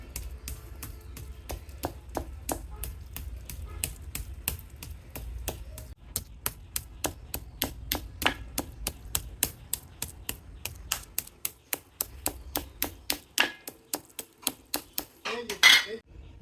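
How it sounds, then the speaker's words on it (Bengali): Repeated pounding of fish with a stone grinding slab (shil-pata) to soften it, a steady series of sharp, close knocks that grow more distinct and evenly spaced toward the end, over faint background hum. "শিল্পাটা নিয়ে নিলাম, এইভাবে মাছটাকে পিটে পিটে নরম করে ফেলবো"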